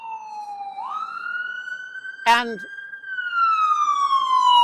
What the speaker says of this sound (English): sorry, let's let the ambulance go by.